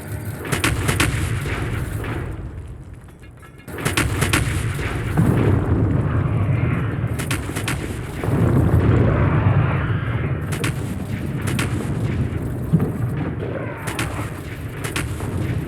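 Artillery fire in the video game Factorio, a run of heavy booming blasts with rumbling tails, repeating at irregular intervals and loud throughout.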